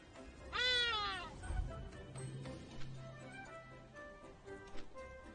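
A pet cat gives one clear, close meow, followed by soft ticking and light clicks in a quiet room.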